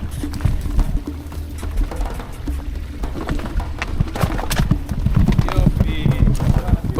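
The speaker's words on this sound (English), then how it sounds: "now we had to cross our first stream with the donkeys." Donkeys' hooves clopping and splashing as the animals are coaxed across a stream on a walk from Nazareth to the Sea of Galilee, a busy uneven clatter close by with talking mixed in.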